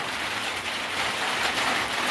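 Steady rain falls outside, a dense even hiss with no breaks, fairly close and alone.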